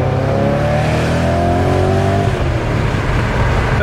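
Inside a BMW M5 E39 sedan, the engine pulls hard under acceleration, a loud steady cabin drone with rising harmonics that then gives way to a broader roar.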